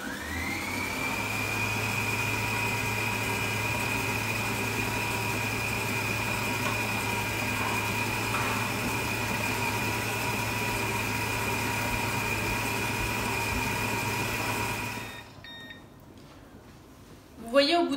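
Kenwood Cooking Chef kitchen machine mixing lemon tart dough at speed 2, a steady close motor whine and hum that runs evenly for about fifteen seconds before cutting off.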